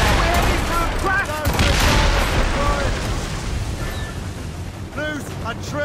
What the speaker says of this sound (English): Fire! Captain, put a shot through it.